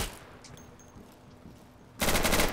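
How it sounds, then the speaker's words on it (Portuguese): Gunfire in the tactical shooter game Insurgency: a quiet stretch of faint distant shots, then a loud, dense burst of automatic fire at the end. "eu tô tomando tiro da onde, cara?"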